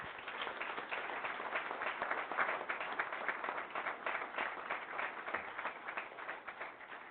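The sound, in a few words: round of applause for veterans at council meeting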